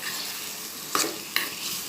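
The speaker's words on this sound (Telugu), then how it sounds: "2 నిమిషాల పాటు కొంచెం నూనెలో ఫ్రై చేసుకోవాలండి." Coconut chutney with green chillies frying in a little oil, a steady sizzle with two sharp scrapes of a stirring spoon against the pan, no talk.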